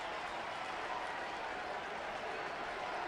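Baseball crowd at PNC Park in Pittsburgh during the ninth inning of a Cleveland at Pittsburgh game, a steady wash of cheering and applause that holds evenly throughout with no talk over it.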